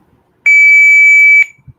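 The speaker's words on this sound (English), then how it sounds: "I hope you can hear the beep." An Arduino buzzer driven by cloud-run code gives one steady, high-pitched electronic beep lasting about a second, loud and close, with a faint click as it cuts off.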